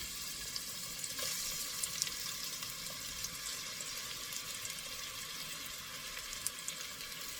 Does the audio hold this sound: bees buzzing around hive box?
no